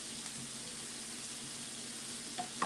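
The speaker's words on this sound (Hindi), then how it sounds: "इसको फ्राई करके मैं निकालने लगी हूँ" Food fries in a pan while chana masala is being cooked, giving a steady, hissing sizzle at moderate volume with a couple of small clinks near the end.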